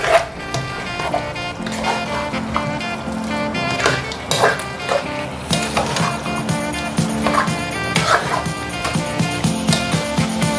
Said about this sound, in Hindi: ये देखिए ये फ्राई हो रहा है अभी